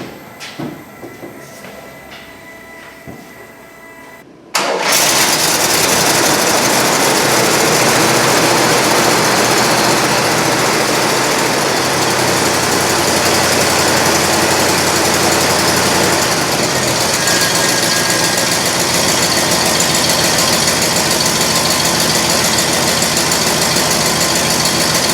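An old junkyard Cadillac engine with freshly changed points cranks and catches abruptly, then idles loudly and steadily with a rough, rumbling exhaust, close by.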